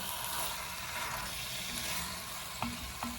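Chicken pieces fry with spices in a pan for majboos, a steady close sizzle with soft stirring scrapes and a couple of brief utensil clinks near the end.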